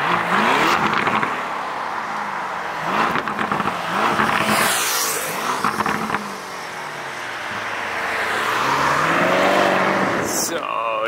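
A car driving past and away outdoors, its engine rising and fading over several seconds with tyre and road noise, while people talk over it.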